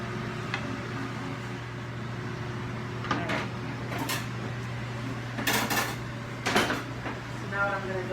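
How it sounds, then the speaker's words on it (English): Plantains being smashed flat on a cutting board in a home kitchen, a few sharp knocks and thumps standing out over a steady low hum, with a voice talking between them. "I'm going to smash the plátanos."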